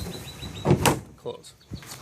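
Plastic Suncast shed doors swing shut with a couple of brief, close knocks and a rattle, then a few lighter thuds trailing after.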